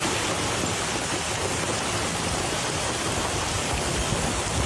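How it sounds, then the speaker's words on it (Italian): Heavy rain and floodwater rushing through the streets of Valdobbiadene's town centre and cascading down stone steps, a dense, steady roar of water filling the whole stretch at constant loudness with no voices. "impressionante la forza dell'acqua che scorre lungo le strade del centro e scende come cascate dalle scalinate"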